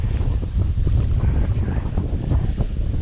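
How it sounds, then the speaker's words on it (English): Strong wind blows across a lake, buffeting the microphone with heavy, continuous low rumbling gusts, loud and close, with no talk. "wind is really picking up"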